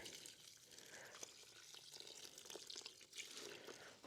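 Warm water runs and pours for the animals' feed on a cool day, a steady close wash of liquid with small splashing flickers throughout.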